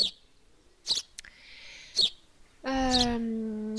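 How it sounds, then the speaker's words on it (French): A house sparrow call plays in an Unreal Engine quiz game: three short sharp chirps, then a longer harmonic note, clear and close, with no talking. "On reconnaît notre petit moineau domestique."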